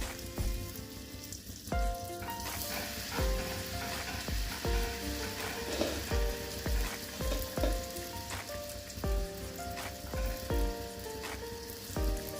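Luchi fry in hot oil with a dense, continuous sizzle and crackle, close and steady, alongside occasional clinks and stirring taps.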